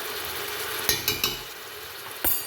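Fenugreek seeds and asafoetida sizzle in hot oil while a meat-bone gravy is cooked, giving a steady soft hiss with a few sharp crackling pops and clinks near the pan.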